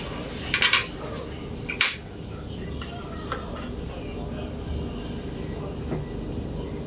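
A spoon of organic ghee goes into a mug of bullet coffee made with extra virgin coconut oil, giving two close metallic clinks early on, then a quieter background with faint soft knocks.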